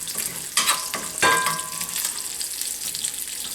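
Sausage sizzles in a pan as a utensil stirs and scrapes at browned bits stuck to the bottom, two bursts of scraping over a steady close hiss, no voices.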